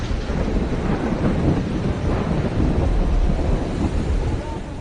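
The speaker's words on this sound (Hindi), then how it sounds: "तूफान से तेज बारिश हुई, 100 किलोमीटर से ज्यादा तेज रफ्तार से हवाएं चली" Heavy rain and strong winds lash Maharashtra during Cyclone Nisarga, a dense, loud, steady roar of downpour and gusts with low rumbling, continuous throughout.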